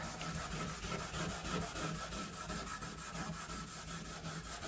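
A fiberglass door being scrubbed to strip its finish, a steady rhythmic rubbing with repeated strokes, close and continuous at a moderate level with no talking.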